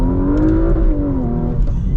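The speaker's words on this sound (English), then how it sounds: "let's get another acceleration here." A 2025 Porsche Macan GTS accelerates hard, its engine note climbing steadily in pitch, loud and close, with no talk over it.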